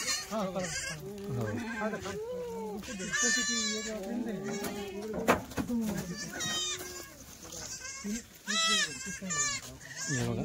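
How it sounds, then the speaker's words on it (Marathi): A load of Kathiawari goats bleats again and again, the wavering, nasal cries overlapping close by while people talk among them. "शेळ्या चालल्या आहे"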